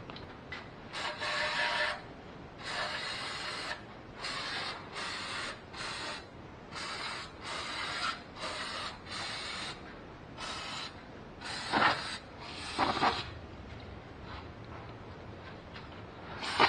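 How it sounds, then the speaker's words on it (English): An aerosol cleaner is sprayed over residual engine oil around the valve cover of a 2004 Ford Focus, a run of short, close hissing bursts of varying length with brief gaps between them and no talking. "we're going to spray down wherever there's residual oil"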